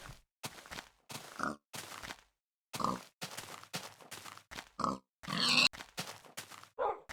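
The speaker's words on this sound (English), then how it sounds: "Look at all these pigs!" A run of close pig grunts and oinks, a dozen or so short choppy bursts in quick irregular succession, with one longer squealing grunt near the end and no talk.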